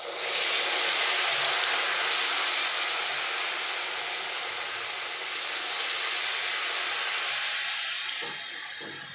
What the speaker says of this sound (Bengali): এবার আমি এই যে ব্যাটারটা বানিয়েছি মালপোয়ার, একটা একটা করে ভাজবো